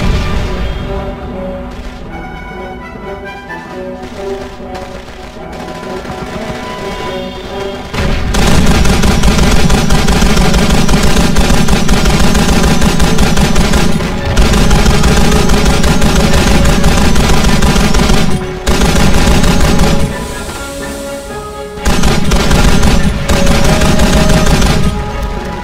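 Sustained machine gun fire in Call of Duty 2, loud and close, rattling in long continuous bursts with brief pauses between them, mixed with battlefield booms and no talk over it.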